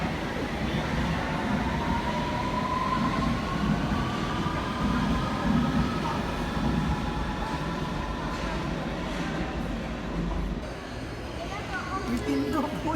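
A Hull Trains service travels between London and Sheffield, with a steady rumbling rail hum heard from inside the carriage while people talk nearby.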